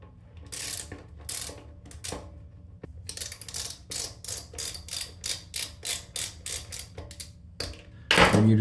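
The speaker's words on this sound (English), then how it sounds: "I got a 7/16 inch ratchet here, and I'm going to go ahead and unscrew this." A 7/16 inch ratchet unscrews a toilet tank bolt on a DeerValley one-piece toilet, giving a run of about a dozen crisp, evenly spaced ratcheting clicks after a few scattered clicks, close and clear, with a louder clunk at the end.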